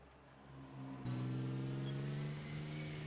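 Two Works Porsche race cars in a 1984 World Endurance Championship racing video game, engines droning steadily and swelling louder as one closes in, a sustained mid-pitched hum with no voices.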